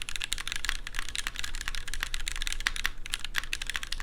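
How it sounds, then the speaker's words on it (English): Rapid, steady typing on a keyboard fitted with SP Star Meteor White switches on an aluminum plate with no foams, giving a thin, clacky sound. The keystrokes are dense, close and even, and nothing else is heard. "I built with SP Star Meteor Whites, which are typically a very good switch, loud, clacky, has a full sound"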